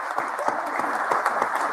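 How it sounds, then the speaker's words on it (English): Audience applause during a live Canadian morning news show, a short burst of dense, steady clapping from a gathered crowd. "So that's where we all applaud."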